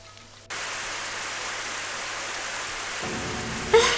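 A steady hiss of spraying water starts abruptly and runs continuously, indoor sprinklers showering down in the video game Super Danganronpa Another 2, with a brief louder burst at the end.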